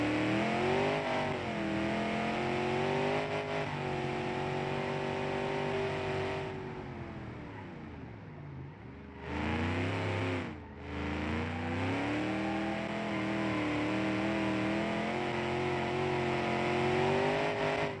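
A 1960 sports car engine in a racing video game drones steadily at high revs, dips as the driver lifts off around the middle, then climbs and holds a loud, sustained whine.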